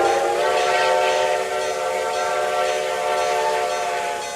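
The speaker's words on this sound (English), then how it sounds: "we'll be hearing the whistle" A model Reading T1 steam locomotive's whistle blows as one loud, steady, unbroken tone lasting about four seconds, with no talking over it.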